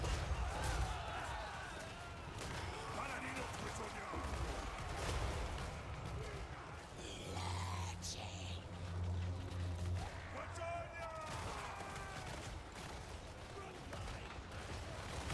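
Musket volleys crack and rumble through a Total War: Warhammer battle, a dense, continuous clatter of distant gunfire with a low booming stretch midway, all sitting under the noise of the fight.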